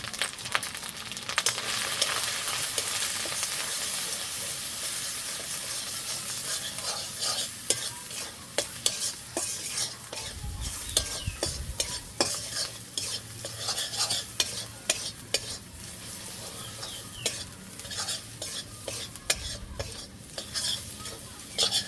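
Spice masala for young goat meat fries in a pan while a spoon stirs and scrapes it repeatedly, a soft sizzle running beneath sharp clinks and scrapes.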